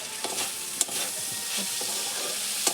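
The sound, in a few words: stir-frying spices for mola fish curry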